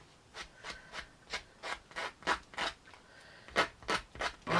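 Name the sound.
rounding off the corners of a miniature piece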